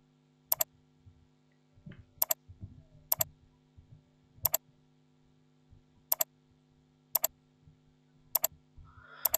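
Computer mouse clicks while editing in Photoshop, eight crisp, isolated clicks at irregular intervals over a quiet room hum, with faint soft movement noises between them.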